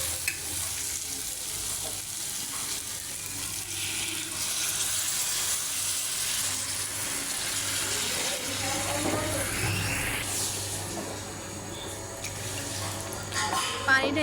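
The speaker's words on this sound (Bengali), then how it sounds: "এখন কচুর ছড়াটা সিদ্ধ হওয়ার জন্য দিয়ে দেব পানি।" Water poured into a pot of cooked taro stolons with tilapia makes a sustained rushing, sizzling wash, followed by softer bubbling and a few utensil knocks.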